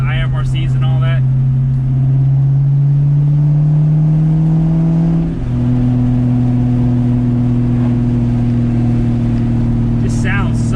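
A 1997 Ford Mustang Cobra engine runs loud and steady, its deep drone climbing in pitch as it revs, then dropping back and settling into a steady high idle. Brief talk comes at the start and again near the end.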